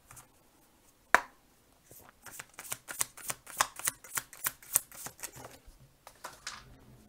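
A deck of tarot cards is riffled and shuffled in quick, crisp flutters, with one sharp snap near the start and then a run of rhythmic papery slaps. The card sounds are close, clear and fairly quiet, with no talk.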